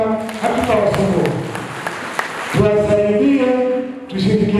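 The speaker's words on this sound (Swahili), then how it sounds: "Tupige makofi kwamba hatutawasumbua." A crowd at a political meeting claps in a scattered patter under a man's amplified speech, the applause fading as he keeps talking.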